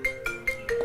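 A phone ringing out on an outgoing call, with several short electronic ring tones repeating quickly and fairly loud, heard alone with no talk.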